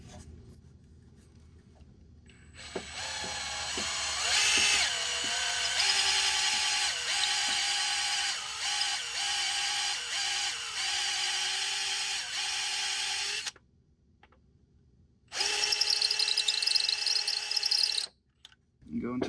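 A countersink bit cuts into an LSx header bolt hole on a C5 Corvette, producing a high, buzzing drill whine that stutters through repeated short pulses, stops briefly, then runs again in a final burst, close up.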